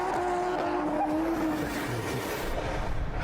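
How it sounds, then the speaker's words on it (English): A car drifting on a Tokyo street, a steady engine roar with rising tire squeal tones, loud and close throughout. "More drifting, so it's good."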